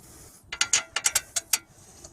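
Metal bolts being threaded by hand onto the brake rotor hub of an Acura MDX during a front brake job, heard as about eight sharp, close clicking ratchet-like bursts over roughly a second, with quiet pauses before and after.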